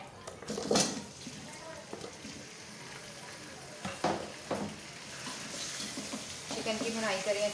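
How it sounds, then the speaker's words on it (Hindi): Chicken pieces for an aloo chicken curry being stirred and fried in a pot, with steady sizzling and scraping, and a spoon knocking against the metal in several distinct clanks, under intermittent talking. "चिकन की भुनाई करें अच्छी तरह से"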